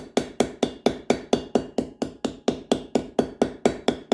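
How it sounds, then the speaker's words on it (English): A hammer peens the metal pins of a knife handle in a steady run of sharp, close taps, about four per second, evenly spaced and loud, with no talking. "You just peen it a little more."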